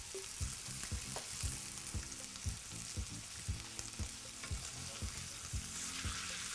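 Osso buco meat searing and browning in a hot pan, a continuous crackling sizzle with rhythmic low thuds and scrapes repeating about twice a second, steady and close, with no speech.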